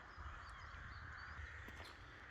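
A flock of crows caws steadily outdoors in the morning, several birds calling at once at moderate distance against a constant low hum.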